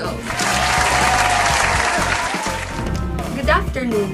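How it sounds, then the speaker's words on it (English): An audience claps for Echo at a mythology-themed talk show, a dense, sustained round of applause close to the listener that fades near the end, with voices mixed in. "Everyone, let's all give a round of applause"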